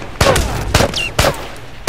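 Gunfire in The Last of Us video game: four sharp, loud shots spaced roughly half a second apart, with a brief whistling effect between them.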